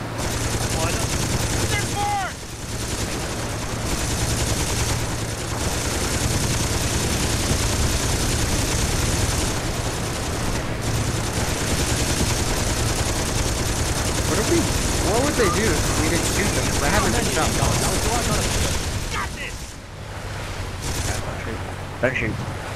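Dense gunfire in the video game Saints Row 2, rapid bursts and sustained automatic fire over a loud continuous action din, with brief lulls and faint voices talking.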